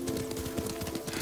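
Horse hooves clip-clopping at a steady riding pace in Ghost of Tsushima, a quick regular rhythm of hoof beats, close and continuous over a low background tone.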